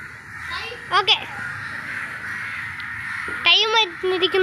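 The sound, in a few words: crows cawing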